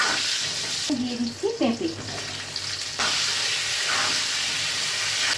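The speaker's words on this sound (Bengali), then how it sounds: "আমি দিয়ে দিচ্ছি অল্প পরিমাণে জিরে দিয়ে দেবো, দিয়ে ফ্রাই করতে থাকবো" Vegetables, including potato and papaya, fry with cumin and salt in a hot pan, a loud, steady hissing sizzle that runs on after a voice speaks briefly over it.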